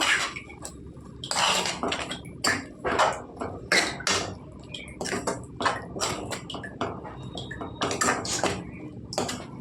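A spoon scrapes and clanks against a pot while gongura chicken is stirred, giving a run of irregular metallic knocks and scrapes at close range with brief pauses between strokes.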